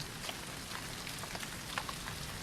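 Rain, mixed with hail, falls steadily on surfaces outdoors in the Himalayas. It makes a dense, even patter with scattered sharper drop hits and no voices.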